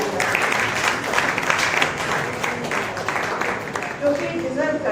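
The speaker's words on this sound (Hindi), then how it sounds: "आचरण और श्यामलन दोनों संस्थाओं के लिए जोरदार तालियां हो जाए" Audience applause at a Hindi literary event for the two institutions Aacharan and Shyamlan, a steady wash of clapping with a voice speaking over it near the end.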